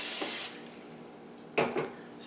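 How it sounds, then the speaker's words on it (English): Two short hissing bursts of non-stick cooking spray into a skillet, the first at the start and the second after a pause, close by. "Spray my skillet with non-stick cooking spray."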